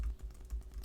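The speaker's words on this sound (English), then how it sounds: "Someone's typing, I see." Fingers typing on a computer keyboard during a remote livestream, a quick run of soft clicking keystrokes close by, with no voices.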